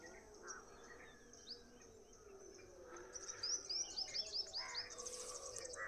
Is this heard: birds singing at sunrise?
yes